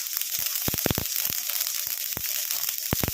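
Mustard seeds pop and splutter in a hot pan over a low flame, a scatter of sharp, irregular cracks over a steady sizzling hiss.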